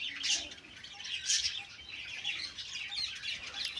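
Birds in a pigeon loft chirp and tweet in short repeated bursts, steady and fairly close, with no clear coo standing out and no talking.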